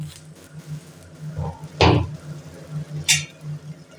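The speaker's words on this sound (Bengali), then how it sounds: "আমি এখন একটু ঢাকাটা খুলে দেখব" A lid lifted off a pan of shim paturi, bean leaves wrapped in banana leaf and cooked over a gas flame, gives a single clear metallic clatter near the middle, followed by a fainter clink, over a low steady hum.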